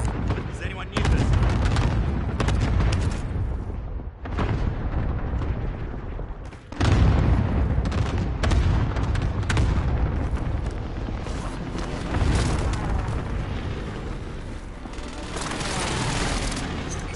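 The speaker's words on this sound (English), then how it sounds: "Cluster strike is active." Cluster strike explosions rain down in Warzone as a dense, loud barrage of booms and rumbling blasts, with bursts that stack and overlap for a long stretch. A few distinct heavier hits mark the sequence.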